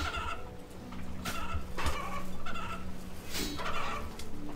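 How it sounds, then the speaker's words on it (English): Birds cluck and gobble in RuneScape 3, with several bursts of turkey-like gobbling at a steady rhythm over a continuous game backdrop, fairly close and loud. "Hello there, birds."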